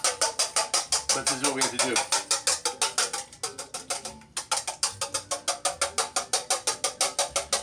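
Electric hand mixer whipping room-temperature egg whites in a bowl, a loud rapid rattling whir with a regular ticking pulse, steady under brief spoken words.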